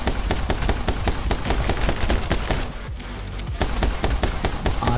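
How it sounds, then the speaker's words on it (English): Rapid bursts of Uzi submachine-gun fire ring out in the action shooter My Friend Pedro, dense, loud and continuous, with sharp staccato cracks that barely let up for a brief moment partway through. "this guy is using Uzi"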